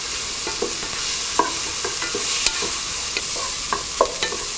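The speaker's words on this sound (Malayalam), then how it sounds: "എന്നിവയിട്ട് വഴറ്റുക. ഉള്ളി കുറേ വഴന്നു പോകണ്ട." Onions sauté in a hot pan with salt while being stirred for a stuffed quail filling, giving a soft steady sizzle broken by clicks and scrapes of the spoon against the pan, with no talking.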